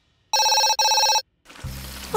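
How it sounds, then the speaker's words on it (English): A telephone in a kids' cartoon set in a garage gives two loud, bright electronic rings in quick succession, then falls silent before a low rumble rises. "Oh, I just need to answer the phone."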